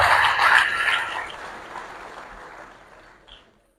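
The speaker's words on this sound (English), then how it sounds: "Can you please give them a round of applause?" A short burst of clapping from a crowd at a school graduation, loudest at the start and then thinning out and fading within a few seconds.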